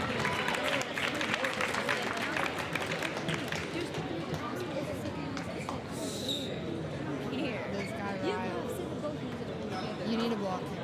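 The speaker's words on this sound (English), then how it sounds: "Let's give a big round of applause." A crowd applauds and cheers at a college basketball game between Truett McConnell and Reinhardt, a steady wash of clapping and murmur running the whole time under a loud voice talking over it.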